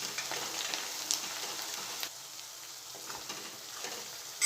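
Chopped onions sizzle in a hot pan for dungaliyu, a steady soft frying hiss with occasional light scrapes and clinks as they are stirred continuously.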